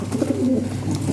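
Lahori Sirazi pigeons, including a male, give a low, close cooing call that lasts about a second against a constant background hum.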